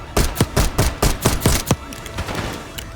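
Gunfire from the video game Call of Duty Black Ops 6 comes as a loud, close burst of about eight heavy, rhythmic shots, then trails off into fainter scattered pops and echo.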